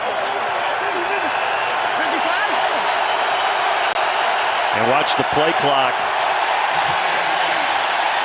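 Broad, steady roar of a large stadium crowd at an NFL game, Pittsburgh Steelers against Denver Broncos, running throughout beneath a commentator's voice, with a brief swell of louder noise midway.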